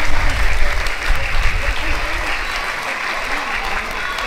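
Elementary schoolchildren clap together at a school gathering, a loud, dense burst of applause that gradually settles to a steadier patter, with faint voices mixed in.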